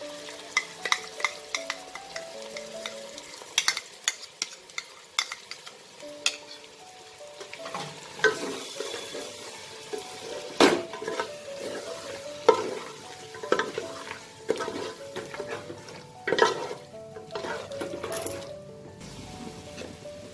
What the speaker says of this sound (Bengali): এবার এই টক দইটা আমি দিয়ে দেবো।